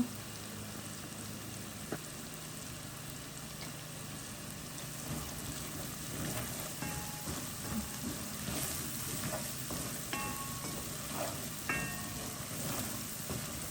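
Dried fish with red chili frying in a pan gives a steady, fine sizzle with scattered crackles and small pops, plus a few light stirring scrapes, fairly close and of moderate loudness with no voices.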